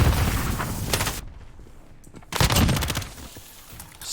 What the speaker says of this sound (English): Sever just shooting through the smoke, getting kills